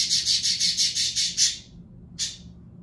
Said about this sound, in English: That bird really made a noise right when I said that.